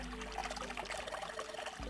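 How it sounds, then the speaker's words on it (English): Water pours steadily from a faucet in the video game Zero Escape: 999, a continuous soft splashing trickle filling a basin, alone and fairly quiet. "Hey, water's filling up."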